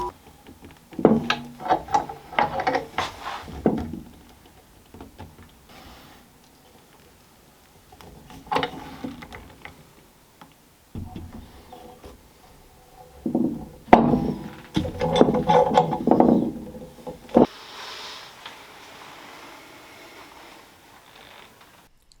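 Sash clamps are tightened on a glued wooden speargun blank in a workshop, giving scattered bursts of creaking, ratcheting and clunking metal-on-wood with quiet gaps between them.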